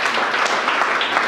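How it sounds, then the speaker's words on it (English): Audience clapping at a teen panel discussion, a dense steady patter of many hands filling the whole moment at moderate loudness, with no voices over it. "let's clap for him."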